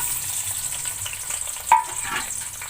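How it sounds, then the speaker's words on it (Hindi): Onions fry in a cup of hot cooking oil for degi aloo gosht, giving a steady, moderate sizzle with one brief louder clatter of stirring midway. "अब इस प्याज को मैं ब्राउन कर लूँगी।"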